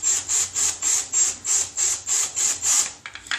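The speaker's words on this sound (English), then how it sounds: "drill these rivets out." Drill bit working through rivets on Stormtrooper armor, a series of about nine evenly spaced whining bursts, each roughly a third of a second, close and loud, with no talk.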